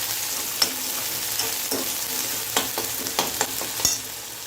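Chopped tomatoes sautéing in a pan for a quick Maharashtrian brinjal (vangyachi bhaji) dish, with a steady close sizzle broken by several sharp spatula scrapes and stirring knocks.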